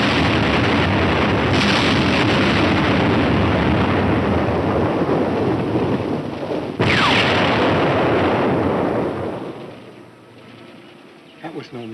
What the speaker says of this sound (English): From the sound of the explosions, they missed.